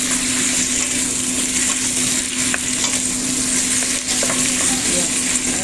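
Fish fries in a hot pan with a steady, close sizzle and crackle that runs unbroken throughout, with no one talking.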